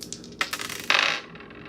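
Dice rattle and tumble onto a surface during a tarot-style reading, giving a few quick close clicks followed by a longer bright clatter as they roll and settle.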